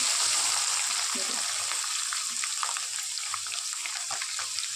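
Garlic fries in hot oil for spicy Kolhapuri chivda, a dense, steady sizzle close up that runs the whole time. Someone talks softly beneath it.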